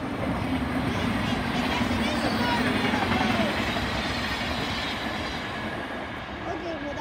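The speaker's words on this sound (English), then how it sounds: "here comes a fast train" A fast train passing on a CSX railroad line, a loud, continuous roar of wheels and cars rushing close by, with a rhythmic clatter running under it and easing slightly toward the end.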